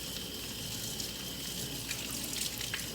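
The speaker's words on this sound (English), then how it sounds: "And you're going to rinse them." Steady stream of tap water running into a sink while chickpeas are rinsed, a constant hissing gush with small splashes near the end and no talk.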